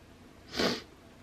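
A single short, breathy nasal sniff, close and fairly loud, with quiet background before and after.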